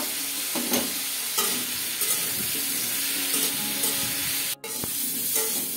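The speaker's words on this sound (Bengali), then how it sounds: "মুলাটা সুন্দর মতো ভাজা হয়ে গেছে" Radish greens and radish fry in a pan with a steady broad sizzle, and a spatula stirs and scrapes against the pan at intervals. One brief dropout breaks the sound near the end.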